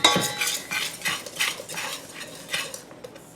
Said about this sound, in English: And then just give this a good mix.